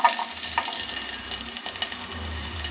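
Chopped onion, cumin seeds and chickpeas hit hot oil in a home kitchen pan while a North Karnataka buttermilk curry is being made. They give a steady, close, hissing sizzle with no talking.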